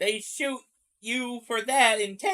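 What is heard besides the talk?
None of the usual background noises is heard.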